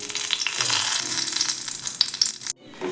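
Red chillies crackle in coconut oil for a Tulu-style sambar, a loud, dense sizzle with scattered pops and stirring scrapes that cuts off sharply before a quiet tail.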